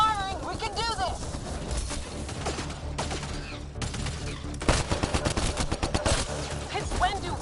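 Gunfire in the video game Mass Effect: Andromeda, with rapid bursts of shots and fusillades, growing denser toward the end, mixed with game sound effects and character voices.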